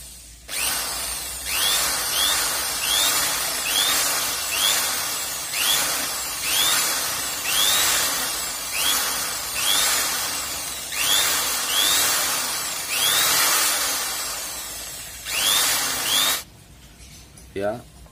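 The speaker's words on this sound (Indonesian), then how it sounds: "Jadi kita besarkan dulu lubangnya." Power drill repeatedly boring out a bolt hole, enlarging it from 8 mm to 10 mm bolt size to mount a rear spoiler on a Daihatsu Xenia or Toyota Avanza; a dozen or so loud whining bursts in steady rhythm, close up, then it stops.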